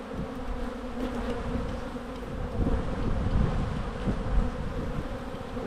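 Honeybees buzz around an open hive in January in a dense, continuous drone, close and fairly loud, swelling slightly as the swarm stirs.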